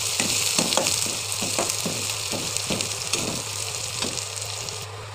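Onions fry in oil with whole spices, a continuous close sizzle punctuated by regular stirring scrapes and clinks of a utensil against the pan, no one speaking.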